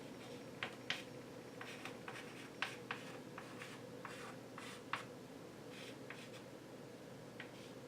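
Chalk or marker writing on a board during a physics lecture, with faint scratchy taps and strokes coming in irregular bursts over a low room hum.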